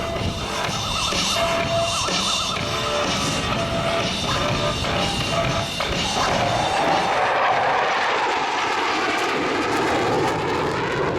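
A General Dynamics F-111 jet roars loudly at an air show, a thick, sustained engine rumble that shifts in pitch as it passes and recedes, with no talking over it.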